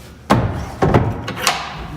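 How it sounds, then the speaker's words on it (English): The cabin door on a Chris-Craft Catalina 30 Pilothouse center console boat is swung shut, making a few dull thuds and knocks in quick succession, close by and moderately loud. "close this door here."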